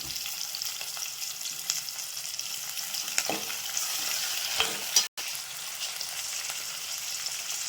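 Curry leaves and dried red chillies crackle in hot oil as the tempering for upma, a loud, dense, continuous frying sizzle with occasional stirring and a brief break near the end.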